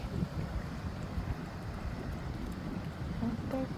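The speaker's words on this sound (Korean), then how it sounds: "얼마나 부는지, 우와! 이러다 쓰러지겠다. 시원한 바람." Strong, gusty wind roars outdoors in a steady, loud rush of broadband noise buffeting the microphone, with no talking.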